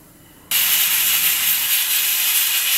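A pressure cooker of pigeon peas starts hissing abruptly, a loud, steady, close jet of steam that continues without pause after a brief quiet moment.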